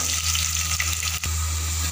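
Onion hits a pan where garlic is already lightly fried, setting off a loud, close crackling sizzle over a steady low hum, with a short dip and brief knock midway, and no voices.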